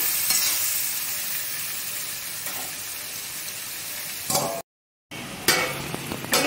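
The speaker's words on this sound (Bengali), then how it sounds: "আমি প্রথমে চার আইটেম সবজি ভেজে নিয়েছি আর এগুলো আমি একসাথে ভেজে নিচ্ছি" Mixed vegetables for shukto fry together in a pan, a loud, dense, continuous sizzle heard up close with a few louder bursts when the food is stirred and a brief dropout near the end.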